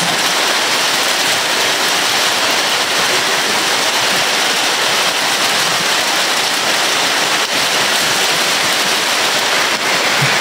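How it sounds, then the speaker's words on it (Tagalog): Heavy rain pours down in a dense, steady roar with no pauses, loud and close throughout. "Ang lakas ng ulan."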